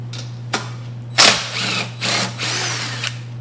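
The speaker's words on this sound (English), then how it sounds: "We're going to have a firefighter come in and show you one method here is by using the impact socket" An impact socket on a power tool opens an auger machine during an entrapment rescue demonstration, giving several short, loud mechanical bursts and rattles against a steady low hum, with no talking.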